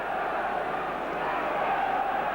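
Roar of a 48,000-strong football crowd at a European Cup semi-final, Aston Villa against Anderlecht, forming a dense, continuous wash of distant massed voices with no single voice standing out.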